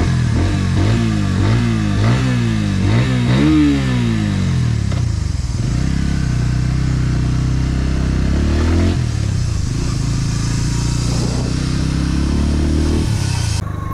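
Bajaj Pulsar N150 motorcycle engine heard loud and close while riding, with a series of rising revs through gear changes, then a steadier drone with further swells in speed.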